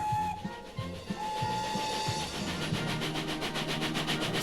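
A train rolls along during an outdoor son et lumière show, its wheels clicking in a steady rhythmic clatter with a faint whistle tone, fairly quiet and distant with no talk.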